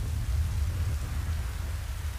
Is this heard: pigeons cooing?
no